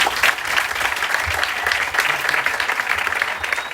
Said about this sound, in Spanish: Así que por favor un fuerte aplauso para Fernando.